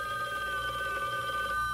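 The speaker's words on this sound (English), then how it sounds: "When the phone rings and you're not there, you'll never know who called or why." A telephone rings in a 1970s radio ad for a PhoneMate answering machine, a steady electronic bell tone heard on its own at moderate level for a short moment.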